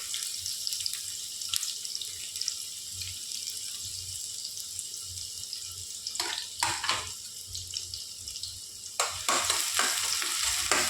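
Onions sizzling in hot oil in a pan for desi-style veg Hakka noodles, stirred now and then, a steady close fry with a few sharper scraping stirs near the end and no talking.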